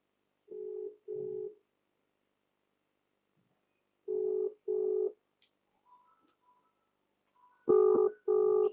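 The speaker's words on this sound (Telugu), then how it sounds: "రింగ్ అవుతుంది" A phone ringback tone sounds in paired beeps, repeating three times with pauses between, the last pair louder and harsher.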